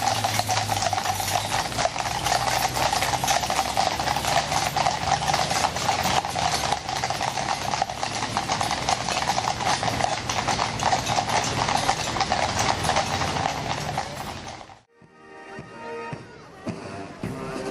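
Many horses' hooves clip-clop steadily on a London street during the changing of the Horse Guards, a dense continuous clatter with traffic noise underneath, easing briefly near the end.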